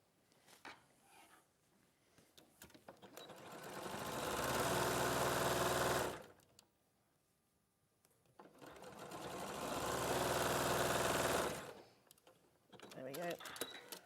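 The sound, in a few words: sewing machine stitching around a curved section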